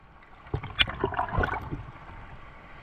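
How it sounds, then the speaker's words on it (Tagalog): Rough, choppy sea waves churn and splash close around a swimmer heading out from shore, with irregular bursts of sloshing water and no voices. "Habang palangoy tayo palabas, ito ang sumalubong sa atin. Magulong na alon."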